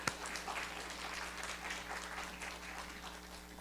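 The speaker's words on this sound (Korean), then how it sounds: "박수 쳐주시고 환영해 주셔서 감사합니다." A church congregation claps steadily to welcome a preacher to the pulpit, a dense wash of applause holding at an even level for a few seconds with a faint steady hum underneath.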